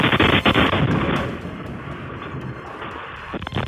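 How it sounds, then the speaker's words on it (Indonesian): A CCTV camera inside a car dealership in Tehran catches a loud explosion during a military strike: a heavy broadband blast and rumble at the start, then a long roaring decay with debris-like crackle and another burst near the end. "Iran merilis rekaman yang memperlihatkan momen ledakan yang diklaim terjadi saat operasi militer Amerika Serikat"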